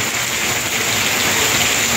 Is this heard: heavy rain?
yes